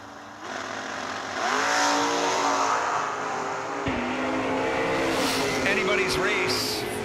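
Drag racing cars launch hard down the track at a Saturday bracket event, engines roaring and rising in pitch as they pull away, with an announcer talking over the noise.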